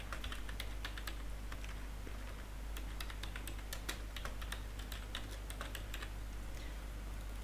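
Rapid typing on a computer keyboard while editing text in video software, with steady clicking keystrokes over a constant low hum and no speech.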